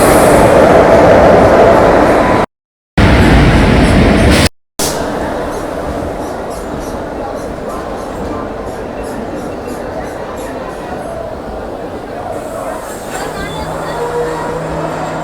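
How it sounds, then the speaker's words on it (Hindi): The Mandsaur-Kota Intercity Express pulls out of Chittorgarh railway station in Rajasthan, a steady loud rumble of rolling wagons with faint rhythmic clacking, briefly cut by two dropouts near the start. "ये देखिए Mandsaur Kota intercity express Chittorgarh railway station से कोटा के लिए रवाना होते हुए हैं"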